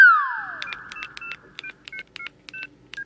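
Telephone keypad tones as someone dials a call: a falling tone at first, then a quick series of about a dozen short, clear DTMF beeps in an uneven rhythm, close and alone without talk.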